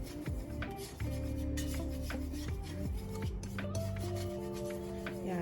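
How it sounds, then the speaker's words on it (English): Sugar being stirred in a pan with a utensil, a faint rasping scrape repeating steadily and close by, with occasional light metallic clinks. "I'm gonna continue to stir the sugars like this"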